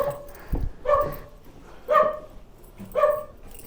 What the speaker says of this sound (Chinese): 狗